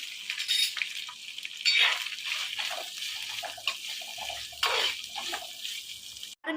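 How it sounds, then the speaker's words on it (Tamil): Dried fish fries in hot coconut oil, giving a steady, dense sizzle and crackle throughout with occasional louder spattering swells, close and alone with no voices. "இதுலேயே இந்த கருவாட்டு போட்டு ஃப்ரை பண்ணிக்கலாம் நல்லா."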